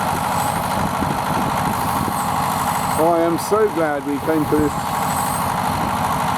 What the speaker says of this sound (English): and that noise is an earth mover,